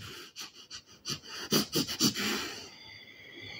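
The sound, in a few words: storyteller imitating a wolf sniffing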